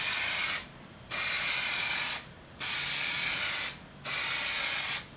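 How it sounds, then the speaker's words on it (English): Koi Orange Plasti Dip sprayed from an aerosol can onto a guitar comes in four loud, close hissing bursts. Each lasts about a second, with short silent gaps between the passes. "Make sure your spray is nice and even,"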